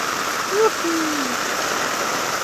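Floodwater pours like a waterfall in a flooded village street in Tunasan, Muntinlupa, making a steady, rushing hiss of falling water throughout with a brief vocal sound.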